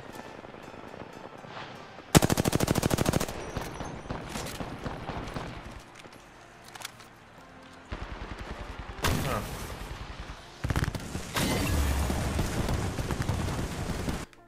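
Gunfire in the Apex Legends video game, several long bursts of rapid automatic fire broken by quieter gaps, loud and close, with faint game sounds between the bursts.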